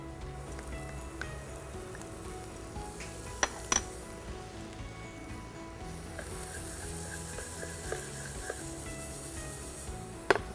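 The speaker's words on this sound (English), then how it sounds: "I'm just gonna sweat the onion and garlic." Onion and garlic sweat gently in a pan over low heat, making a faint, steady sizzle with occasional light clinks of a utensil against the pan.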